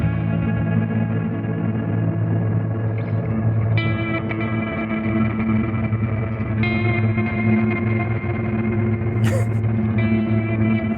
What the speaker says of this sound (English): if you place the feedback all the way to the maximum, basically you will get infinite sounds